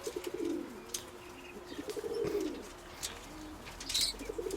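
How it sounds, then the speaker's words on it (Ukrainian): Pigeons coo softly and continuously nearby, low rolling calls overlapping, with occasional faint chirps and wing rustles in a quiet outdoor setting. "Ось Дімен голуб"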